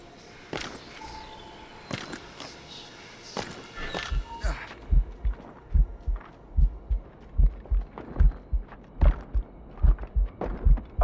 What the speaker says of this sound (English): Moving keeps my heart beating.